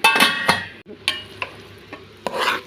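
A spoon stirring jaggery pongal in a pot, a few scraping strokes and soft knocks against the metal with a faint sizzle beneath, close and alone.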